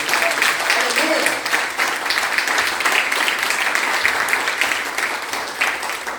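Church congregation applauding together during a worship service, a dense, steady wash of clapping that fills the room for several seconds, with a voice briefly audible underneath.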